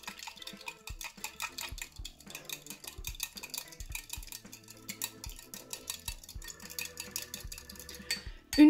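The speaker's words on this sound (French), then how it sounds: "Donc je mélange jusqu'à ce que ce soit bien homogène." A spoon stirs salt into water in a container for slime, making rapid, light scraping clicks and soft clinks close by that continue steadily, heard alone with no voice.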